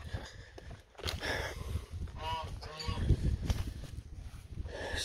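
Goose honking on a farm near a manure pile, a few loud nasal honks rising over outdoor background noise and footstep-like shuffling.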